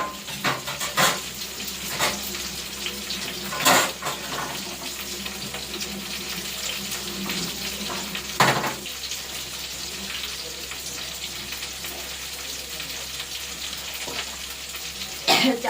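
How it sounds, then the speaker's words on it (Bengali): Rice is washed in water in a home kitchen: steady sloshing and swishing with trickling water, a few louder splashes and clanks from the pot, continuous and close. "চালটা ধোয়া হয়ে গেছে।"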